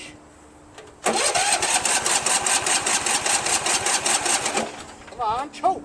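A Yard Machines lawn mower with a Tecumseh 13.5 engine starts up after a starter repair, catching abruptly and running in a loud, even chugging roar for a few seconds before cutting off, followed by a short voice.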